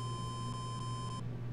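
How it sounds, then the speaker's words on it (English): A steady high electronic beep tone from the Super Mario Land video game sounds continuously over a low hum, then cuts off abruptly near the end; no talking. "Beep, beep, beep, beep."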